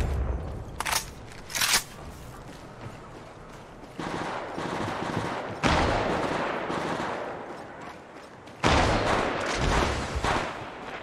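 Gunfire bursts in a shooter video game, with sharp short volleys near the start followed by longer sustained stretches of rapid shooting that surge loudly and recur, no talking.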